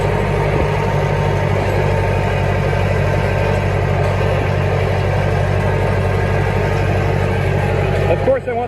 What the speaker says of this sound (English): I'm gonna ted it in a higher gear,